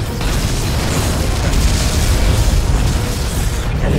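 A spaceship explodes after being destroyed in Star Trek Legacy, a loud, dense, rumbling blast that rolls on without letup for several seconds.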